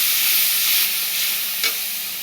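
Spices such as ginger and cumin sizzle steadily while they fry in a pan, with a soft stir and a brief scrape near the end, close and continuous.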